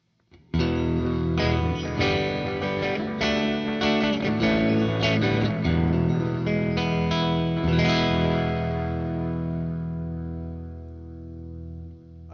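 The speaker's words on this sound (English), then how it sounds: "And the Fender Twin will sound like this." Rhythmic chord strumming on a Fender Jaguar Johnny Marr partscaster through a Fender Twin amp, clean and shimmering with slight chorus and reverb, ending on a sustained chord that gradually decays.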